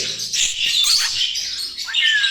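Continuous bright chirping and twittering from a male pet budgie, close and loud, with quick rising whistles and no talking.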